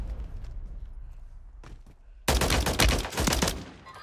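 Gunfire in the video game Warzone 3: quiet muffled shots and distant pops for about two seconds, then a sudden loud close burst of rapid automatic fire that keeps going before easing off.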